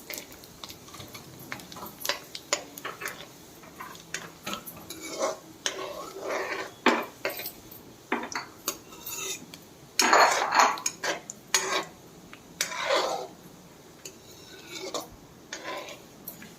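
Mustard seeds, urad dal and cumin frying in a pan give sharp crackles and pops, mixed with metallic clinks of a spoon against the pan, fairly close and irregular, with a little background voice.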